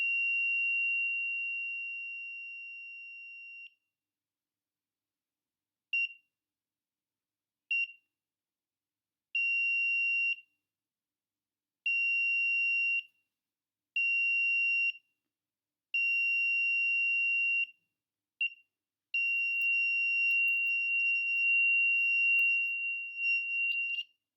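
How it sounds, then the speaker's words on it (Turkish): Driver drowsiness detection software sounds a shrill steady electronic alarm tone, first one long beep, then a series of short and medium beeps with gaps, ending in a longer continuous tone. "Yüzümü algılamadığında tekrar bildirim veriyor."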